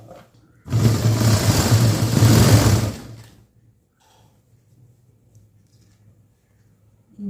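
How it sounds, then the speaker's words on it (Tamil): A sewing machine runs a single burst of stitching on a lining blouse, a loud, fast whirring buzz lasting a few seconds before stopping, followed by quiet handling noises. "இப்போ தையல் போட போகிறோம்"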